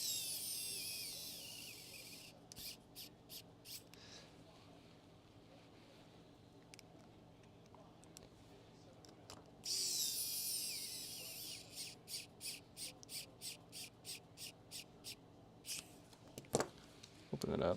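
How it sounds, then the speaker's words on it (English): Small screws driven into a handheld game console casing, heard as short bursts of rapid ratcheting clicks from a close screwdriver or driver, repeated in several rhythmic runs with quiet pauses and a low background hum. "let's get these screws in while we're at it"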